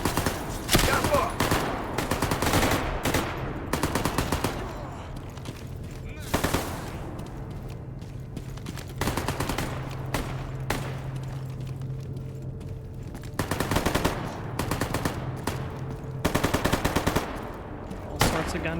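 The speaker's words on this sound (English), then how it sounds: "All sorts of gunfire." Gunfire in the video game Stalker Gamma: repeated bursts of automatic and single shots, loud and close, with a lull in the middle where a steady low hum carries on before the firing resumes in clusters.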